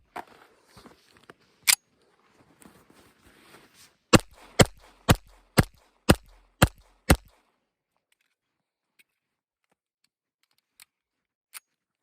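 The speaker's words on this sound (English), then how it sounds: "out of the 1911 today, we're shooting Blazer brass, 230 grain full metal jacket ball ammo" A 1911 pistol fires 230 grain Blazer brass full metal jacket ammunition: one sharp shot, then six rapid evenly spaced reports, each loud and crisp against quiet surroundings, with a few faint clicks afterward.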